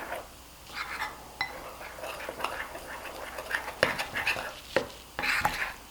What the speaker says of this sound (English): then just mix that all together